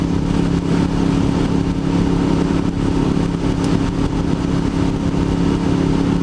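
Motorcycle riding along a road around South Ames on a cold, cloudy day, its mid-pitched engine droning steadily and loudly throughout with continuous wind and road rumble, no talking.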